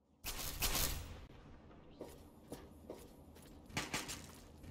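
Gunfire in Fallout 3: a loud opening burst followed by several quieter scattered shots and thuds at irregular intervals.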